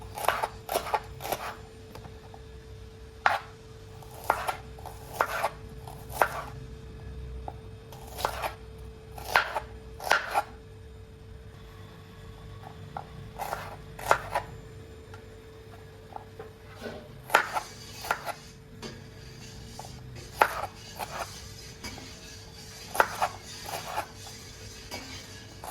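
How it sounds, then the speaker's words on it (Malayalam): Small onions (shallots) being cut into pieces with a knife on a board: sharp, close chopping taps in irregular bursts with short pauses, no talking. "ചെറിയ ഉള്ളിനെ ഒന്ന് നന്നായിട്ടൊന്ന് 2-3 പീസാക്കി എടുക്കുക"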